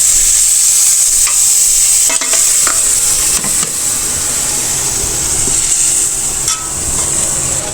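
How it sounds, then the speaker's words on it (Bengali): Onion and spices being sautéed in a wok for a chicken dish, giving a steady close sizzle and fry with scraping stir strokes, sharper scrapes near two and three seconds, with no talking throughout. "এই তো মশলা কষানো শেষ"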